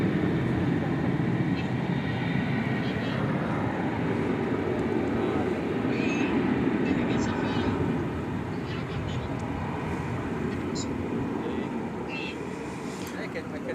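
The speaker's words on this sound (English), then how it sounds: "Delta Flight 2800 arriving from Salt Lake City, an Airbus A319er." Delta Airbus A319, a 23-year-old airliner, arriving at DFW airport as a steady, loud broadband jet roar that holds throughout and eases slightly toward the end.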